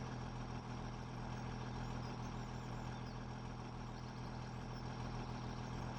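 Kenworth truck idling in Farming Simulator 17, a steady low diesel rumble held at an even level throughout, with no voices over it.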